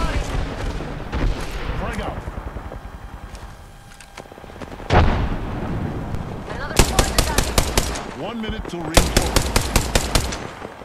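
Rapid automatic gunfire from Apex Legends rattles in loud bursts, with heavier booms and shots mixed in during a firefight, while a voice speaks over the action.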